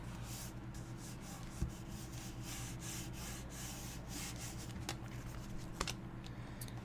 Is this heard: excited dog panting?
no